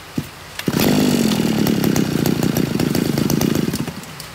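A TD33 brush cutter's two-stroke engine starts after a brief pull and runs steadily near and loud with a buzzing drone for several seconds; no one speaks.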